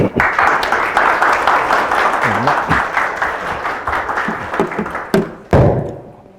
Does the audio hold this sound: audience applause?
yes